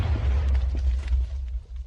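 Cannon explosions in Minecraft, a loud heavy low rumble of booming blasts rolling together and fading near the end, with no talk.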